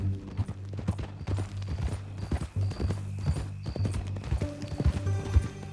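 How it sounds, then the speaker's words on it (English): Horse hooves in Red Dead Redemption 2 clip-clop in a steady walking rhythm, close and clear, accompanied by tonal background hum and some creaking tack. "That a new horse?"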